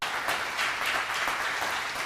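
Steady applause from a church congregation, dense continuous clapping that fills the whole stretch at an even level with no talking.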